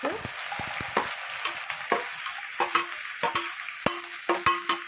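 Dried red chillies, garlic and onions stirred and frying in a pan for a spicy brinjal and ridge gourd curry, a steady close sizzle broken by repeated scraping strokes of a spoon.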